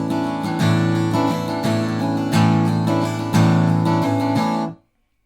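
An acoustic guitar strums chords, several full strokes across all strings in a steady rhythm, close and loud, ending in a clean stop.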